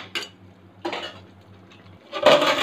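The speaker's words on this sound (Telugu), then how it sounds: "ఇప్పుడు మనం దీన్ని మూత పెట్టేద్దాం కొద్దిసేపు" A lid is set onto a cooking pot of chicken curry in a home kitchen, giving a few clinking metal knocks, with a louder clatter of pot and lid at the end.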